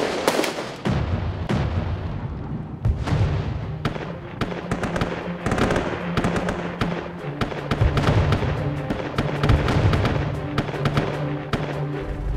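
A dense barrage of gunfire and explosive bursts from a Chinese anti-Japanese war drama, with rapid overlapping shots and booms crackling continuously and loudly over a low rumble, no voices heard.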